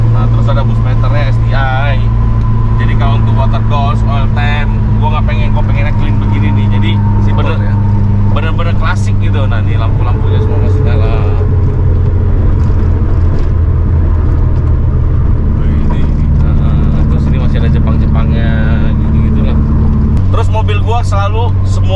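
A Subaru GC8 Impreza Type R two-door is driven under throttle, its engine droning loud and steady from inside the cabin with shifting pitch as revs change. People talk over the engine throughout.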